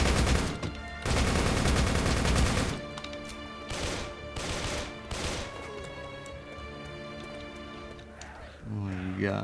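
Enemy gunfire in the video game Darkest Days: loud bursts of rapid shots in two long volleys, then scattered single shots amid game music and effects, with someone talking over parts of it.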